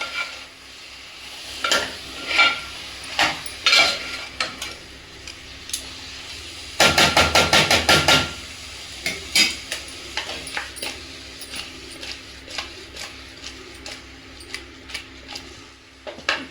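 A spoon stirs chicken pulao with fresh coriander in a pot, giving scattered scraping clinks and soft sizzling, with a brief dense burst of rapid scraping in the middle.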